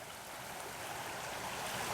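A flooded creek flowing strongly below a bank at night, giving a steady, dense rushing wash of water that stays even and close throughout with no voices.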